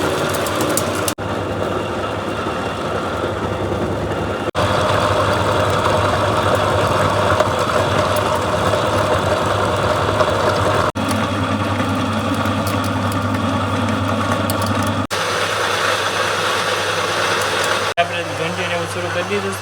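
Home flour mill (ghanti) grinding grain, a continuous droning motor hum with a steady low tone, loud and close, running under talking voices throughout.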